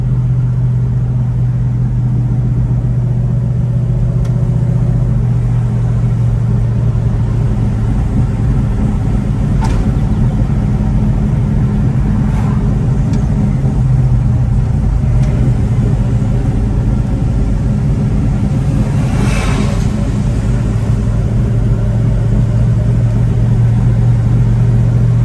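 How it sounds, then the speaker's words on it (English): A 1967 Chevelle SS cruising down a country road, its engine a steady, loud low rumble throughout with a few faint higher clicks and rattles over the top, no one talking. "Driving for about 10 minutes now"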